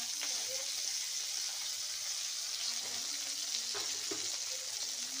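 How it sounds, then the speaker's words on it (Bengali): Tomatoes fry gently in a pan for aloo bati chochori, producing a soft, even sizzling hiss with occasional faint knocks from a stirring spoon, quiet and steady without speech. "টমেটোগুলো যতক্ষণ না নরম হচ্ছে আমি ততক্ষণ একটু নাড়বো।"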